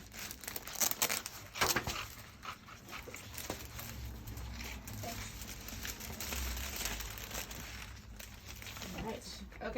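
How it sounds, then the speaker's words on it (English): A plastic bag crinkles and rustles in bursts as a rub-on stick from a transfer set is pulled out of it, with a dog panting and whimpering nearby and faint voices in the background. "Em, could you get the rub-on stick out of the plastic bag?"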